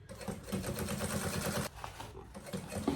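A sewing machine stitches the lining of a banana bag in close, loud bursts of rapid needle clatter, with a short pause and then another run.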